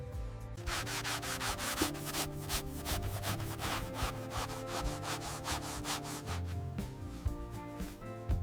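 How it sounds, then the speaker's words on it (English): Controlled machine buffing of finished cowhide leather being refined for luxury shoes and purses, a steady close rubbing and sanding texture with rapid rhythmic strokes throughout, no voices. "Surface finishing begins with controlled buffing to refine the texture."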